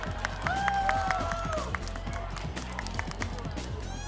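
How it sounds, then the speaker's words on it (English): An audience applauds a model at a Gene Juarez Salons hair styling show, a steady patter of clapping set against tonal music that swells early and then settles. "let's give it a round of applause for"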